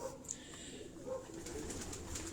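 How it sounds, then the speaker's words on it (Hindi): Pigeons kept in a cage coo softly in a quiet setting, with faint low murmuring calls and a few light rustles. "ये दोस्तों जितने भी आप कबूतर देखेंगे मेरे कैमरे की स्क्रीन पे, ये तमाम उनके परवाजी कबूतर हैं।"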